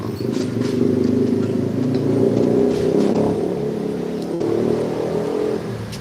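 A 2005 Yamaha RX King two-stroke motorcycle engine idles and revs with a buzzy, throaty exhaust note, steady and close, briefly dipping before picking up again.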